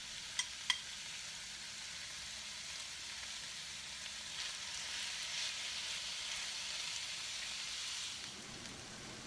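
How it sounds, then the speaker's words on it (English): Ground meat browns in a frying pan for an egg roll in a bowl, giving a soft continuous sizzle and crackle close by, with two small clicks of a utensil near the start and no talking. "Allow the meat to brown for about 5 to 10 minutes and break it apart into smaller pieces"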